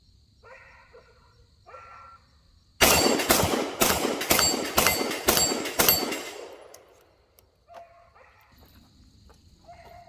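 A 9mm pistol-caliber carbine, a budget competition build, fires a rapid string of about seven sharp, loud shots in quick succession outdoors, followed by ringing decay and faint ambient insect chirps.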